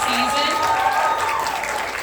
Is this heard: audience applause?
yes